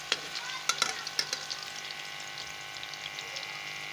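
Crackling sizzle of garlic and ginger frying in a pan, with sharp pops and spatters early on, settling into a steady hiss.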